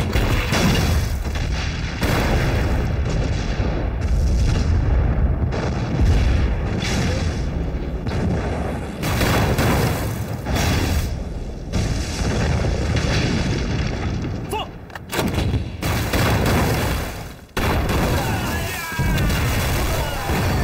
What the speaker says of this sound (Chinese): 我们不是带迫击炮了吗？ 你现在下去朝3点钟方向半径300米周围密集开火